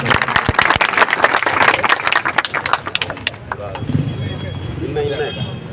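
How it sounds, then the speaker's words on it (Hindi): A crowd applauds to welcome the next speaker onto the stage at a Congress party reception in Bhadra, loud mixed clapping that thins out midway as a background hum and murmur of voices take over. "एक बार तालियों के साथ उनका स्वागत अभिनंदन"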